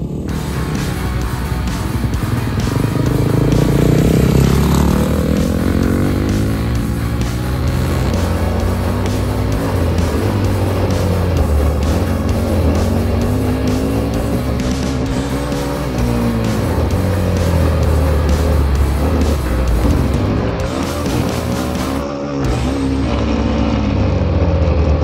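Motorcycle engine roaring continuously on a race track, loud and close throughout with shifting pitch as it accelerates and brakes, no talk over it.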